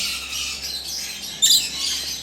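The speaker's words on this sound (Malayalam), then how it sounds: "എട്ട് കിളികളടങ്ങുന്ന മാസ്ക് ലവ് ബേഡ്സിൻ്റെ ബാച്ചാണ്" Mask lovebirds from a batch of eight near-adult birds give a loud, sharp squawk about midway through, set against a steady bed of softer chirping and chatter.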